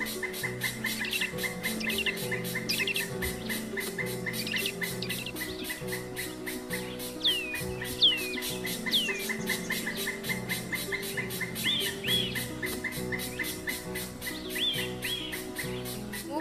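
Birds chirp and call outdoors at Smrutigandha, Govindrao Nikam College of Pharmacy, Sawarde, with short faint tweets scattered over a steady, rhythmic background.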